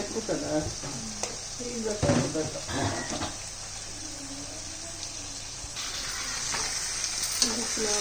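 Korameenu (murrel) fish curry sizzles in a pan as the pieces are gently stirred and turned, a steady frying hiss with scraping stir sounds throughout and a voice talking over it.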